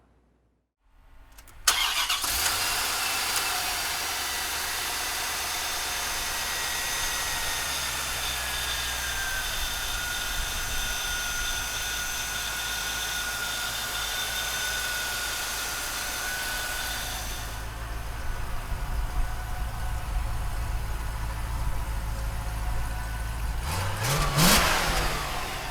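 1996 Chevrolet Corvette Grand Sport starting with a short crank and catching into a loud, sustained run, holding steady for a long stretch before a sharper rev near the end. Close by, with no speech.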